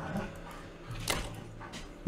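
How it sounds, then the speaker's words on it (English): Puppies scuffling in the background, faint yips, growls and brief whimpers coming from a distance at low volume. "There's puppy combat going on in the background. My doggies are fighting."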